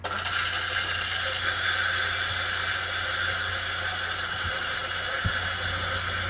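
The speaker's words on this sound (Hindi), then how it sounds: "अब हम इसको ब्लेंड करते हैं और हमने इसको ब्लेंड करना है 3 मिनट।" A kitchen blender whirs steadily as it blends a mint drink, a constant close mechanical hum with a bright buzzing whine and a couple of faint knocks near the end.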